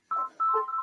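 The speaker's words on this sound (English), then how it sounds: "Sorry, that was my phone." A mobile phone goes off with a short electronic ringtone, two bright beeping tone bursts close by in an otherwise quiet moment.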